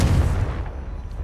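Confringo blasting spell cast in Hogwarts Legacy: a single loud, deep booming burst that hits at once and then trails off into a fading rumble over about a second.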